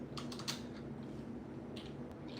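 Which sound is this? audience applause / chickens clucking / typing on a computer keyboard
typing on a computer keyboard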